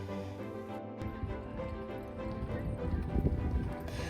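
Iberian horses' hooves clip-clop on firm ground at a walk at a horse show, fairly faint and steady, with low background noise and a faint voice.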